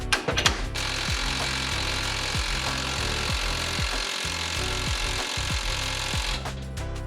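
Impact wrench hammering on a ball joint bolt of a Chevy S10 pickup, a loud continuous rattling burst that runs for several seconds with brief pauses between pulses, close and without talk.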